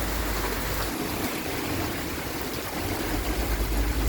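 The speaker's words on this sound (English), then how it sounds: "the rain is really coming down" Heavy tropical rainstorm pouring down outdoors, a steady dense roar of rainfall that runs unbroken and fairly loud throughout with low rumbling underneath, and no voices.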